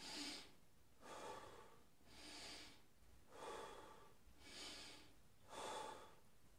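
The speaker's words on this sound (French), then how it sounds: "La respiration par la poitrine, c'est donc ça fait ce mouvement-là." Slow, deliberate chest breathing is demonstrated, with six audible breath cycles in a steady rhythm, each a soft airy rush in and out, close and quiet with nothing else around it.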